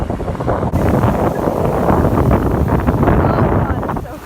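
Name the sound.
wind at the beach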